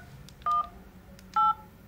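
Two distinct electronic keypad beeps from an LG V60 smartphone during a button test, each a short steady tone about half a second apart, clear and close in a quiet setting.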